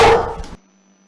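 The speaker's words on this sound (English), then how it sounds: "Finally, he gave a sharp bark and turned north." A dog gives a single sharp, loud bark up close, cutting off abruptly into near silence after about half a second.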